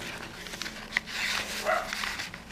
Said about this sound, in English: and the dogs are going mad